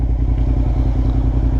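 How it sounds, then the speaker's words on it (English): A small V-twin motorcycle engine idles close by, its loud, steady low-pitched throb carrying an even, lumpy pulse throughout with no revving. "Little V-twin, got a good little sound."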